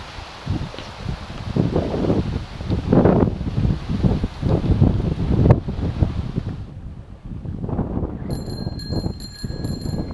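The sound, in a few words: wind blowing in a park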